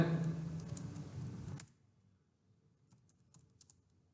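Typing on a computer keyboard to enter a search: a dense burst of keystrokes for about a second and a half, then a few faint, scattered taps.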